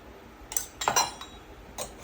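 A metal spoon clinks against a pot of chai as masala is added, giving a few quick, light taps close by in a quiet room.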